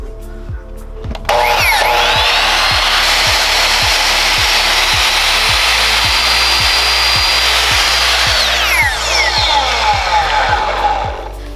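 A power saw cuts through aluminum flat bar with a loud, sustained high-pitched whine and a grinding screech, starting abruptly after a brief motor hum and then winding down at the end.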